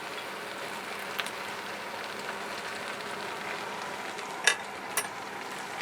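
Beef browning in a pan for goulash, a steady soft sizzle and frying crackle running throughout at low level, with a few brief sharper pops and clicks near the end.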